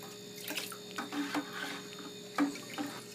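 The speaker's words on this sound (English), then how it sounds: "we'll cover him up with water the rest of the way up the bucket" Water splashing and pouring into a bucket holding a brining turkey, with irregular gurgles and splashes at close range, fairly quiet and with no talking.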